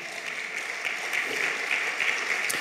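Congregation applause during a church sermon, a soft, even wash of many hands clapping at moderate distance, steady throughout with a few sharper claps poking through.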